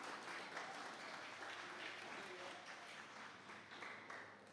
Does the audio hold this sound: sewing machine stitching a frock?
no